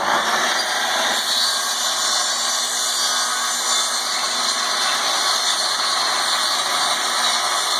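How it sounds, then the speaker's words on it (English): A Makita 10-inch sliding compound mitre saw spins up and runs at full speed, giving a loud, steady high-pitched whine that holds close and continuous throughout, without talk. "Pull back on the handle and get the saw started."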